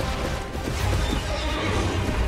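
Horse neighing in a Souls video game, a whinny heard amid dense, loud game noise and rumbling effects, with hoof-like clatter and no talking.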